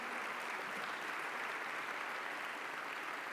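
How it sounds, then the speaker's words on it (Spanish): A church congregation applauds steadily during a Sunday morning service, a dense, even wash of clapping that holds at a constant level throughout without a break. "Denle fuerte el aplauso al Señor."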